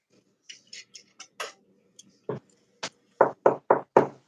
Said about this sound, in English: I'm gonna knock on wood for you